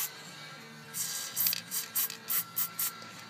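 Several short bursts of grease spray hiss in quick succession on a lawn mower's brakes, close up and fairly quiet, after a faint lower spray at first, over a soft background hum.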